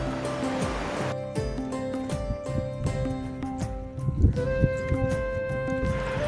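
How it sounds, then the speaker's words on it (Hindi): Water rushes steadily down a stepped spillway, a continuous loud roar of turbulent flow heard close up, with faint voices under it. "स्पिलवे से पानी कंट्रोल्ड वे में नीचे आ रहा है"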